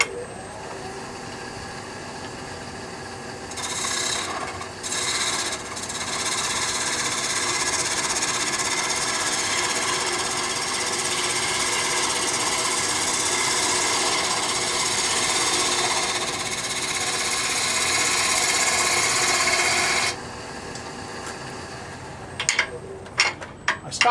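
A wood lathe turns a blank between centers while a roughing gouge cuts it, giving a steady, loud whirring grind that runs for about twenty seconds and then stops abruptly.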